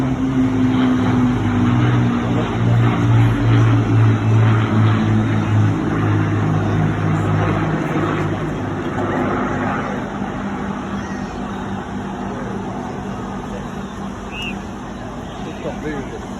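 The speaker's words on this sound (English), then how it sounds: "enjoy and fully appreciate the sound of those Merlin engines as they fly by" A low, steady drone of Rolls-Royce Merlin engines from a Lancaster bomber passing overhead at Clacton Airshow 2022, fading gradually, with a murmur of crowd chatter underneath.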